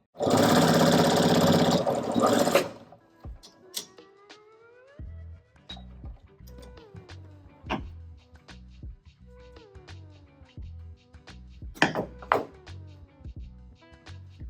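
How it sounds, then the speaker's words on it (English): A loud burst of fast, dense whirring from an industrial sewing machine at the start, then a series of softer clunks and whirs as the mechanism moves in short bursts. "This machine threads like a regular sewing machine."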